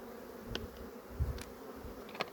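Honeybees from a weak colony damaged by varroa mites buzz inside an opened hive while fighting, with a low steady hum broken by a few sharper buzzing bursts close by.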